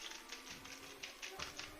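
Mechanical computer keyboard keys are pressed in a quick irregular run of sharp clicky taps, close and fairly quiet, over a low steady background hum.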